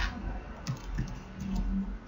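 Soft keystrokes tap out a short password on a computer keyboard, a few clustered clicks close by in a quiet room with no talking.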